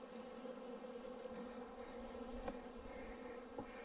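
Honey bees hum steadily at a hive in northern Wisconsin, a continuous faint drone of many insects with no talking.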